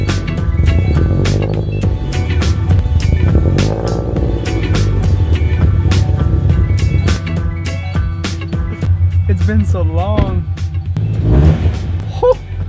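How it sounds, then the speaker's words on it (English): A Subaru BRZ with a freshly built motor rumbles at a low idle close by, with sharp clicks and brief rises in engine note and a few spoken words over it. "when I start the car, the tune's like completely fucked up"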